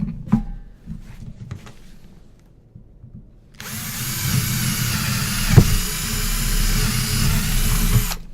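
A power drill whirs loudly and steadily for several seconds, boring through wood after a quiet stretch of faint knocking and handling noises.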